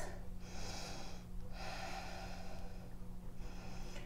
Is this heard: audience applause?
no